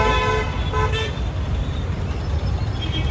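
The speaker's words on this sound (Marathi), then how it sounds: "ही अशी ट्रॅफिक असते आमच्या इथे" Loud roadside traffic rumble with a brief car horn toot near the start, vehicles passing close by.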